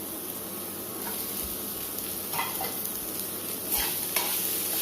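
Carrots and beans sizzle steadily in a hot pan, with a few louder stirring scrapes and clatters breaking through the continuous frying hiss.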